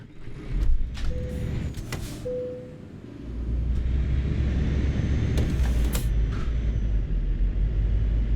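A truck engine in Euro Truck Simulator 2 revs on snowy, icy roads as the wheels spin, producing a loud continuous rumble that rises after a few seconds and holds steady, with a couple of faint high tones.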